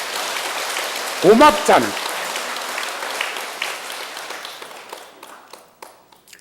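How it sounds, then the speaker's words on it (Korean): An audience applauds during a Buddhist monk's dharma talk. A short spoken phrase rises over the clapping early on, then the applause thins and fades into a few scattered, separate claps. "박수 한번 보내주세요."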